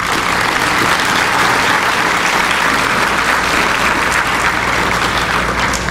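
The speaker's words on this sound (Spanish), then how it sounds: "pido un aplauso para él" An academic audience applauds a lecturer being inducted into a national science academy, giving a loud, sustained wash of clapping that holds steady for several seconds.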